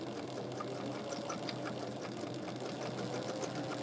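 A sewing machine hums steadily through a quilt block seam, a faint and continuous whir of stitching at a distance, with no talk over it.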